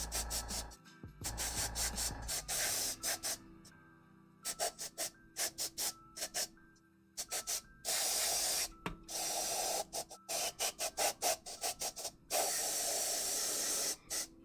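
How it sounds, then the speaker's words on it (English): Short and longer bursts of airbrush hiss spray green paint over a silver coat, starting and stopping in an irregular rhythm with quiet gaps between. "I just sprayed this silver, and now I'm spraying it green"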